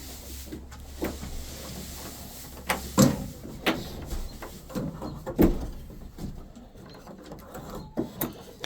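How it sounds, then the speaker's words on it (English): A chicken coop door is opened with a string of clicks, clunks and scraping knocks, irregular and close, with a louder bang near the middle over a quiet background. "let's open the door here quick."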